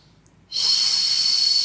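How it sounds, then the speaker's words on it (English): A single long, steady breath released during a Pilates back-pain exercise, starting suddenly after a quiet moment and holding as a close, breathy hiss with no talking. "And in breath. Exhale."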